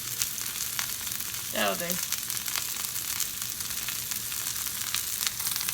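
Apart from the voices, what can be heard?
food sautéing in a pan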